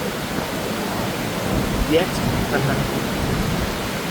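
Steady monsoon night rain in Bangkok, heard from a covered skywalk near a shopping mall as a constant broadband hiss, with faint voices in the background.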